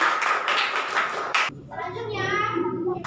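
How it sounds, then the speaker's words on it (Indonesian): A class claps hands together in a classroom during a teacher's lesson: a short burst of brisk, fairly close clapping for about a second and a half, then it stops and speech follows. "tepuk tangan."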